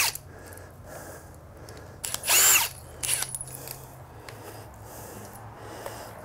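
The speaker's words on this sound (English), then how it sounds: "Let's get you a drill to get those off." Cordless power drill backing out chrome mounting bolts while assembling a Thumpstar TSF 250 X3 dirt bike, one short loud whirring burst, then a briefer second spin, with quiet handling noise around them.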